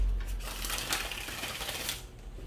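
Tarot cards are shuffled in a steady, continuous riffling patter, close and moderately loud, with no voices.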